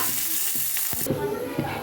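Food sizzles in a pan up close, with a few clinks and scrapes of stirring partway through.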